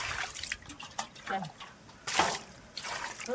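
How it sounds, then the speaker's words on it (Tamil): Water splashes and pours in short bursts over fish being washed, with trickling and dripping between them and voices speaking nearby. "தண்ணி ஊற்று தண்ணி ஊற்று"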